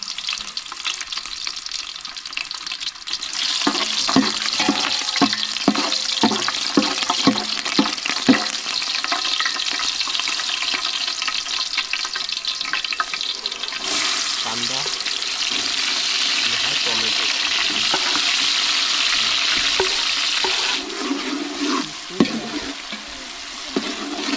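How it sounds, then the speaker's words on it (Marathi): Garlic and green chillies frying in hot oil for a chicken biryani cooked outdoors by a stream in the woods, a loud steady sizzle with stirring scrapes running throughout, no talk. "तेल तर तापलंय सुरू करूया लसूण आहे मिरची आहे"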